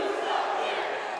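Dense, roaring crowd noise fills a wrestling arena at a Juggalo Championship Wrestling show, steady and loud throughout with shouting voices blended into the din.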